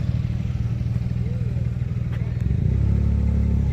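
A motorcycle engine chugs close by with a steady rhythmic putter, then rises to a louder, fuller rumble as the bike rolls in, with a voice briefly heard in the mix.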